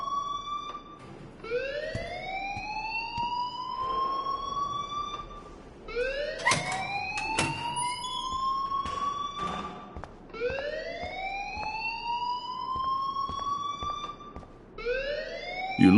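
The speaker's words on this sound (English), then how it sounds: "please turn off that alarm since that's your job" A loud electronic alarm wails in a Life is Strange game scene, with repeated rising siren sweeps every few seconds and sharp clanks and bangs cutting through between them.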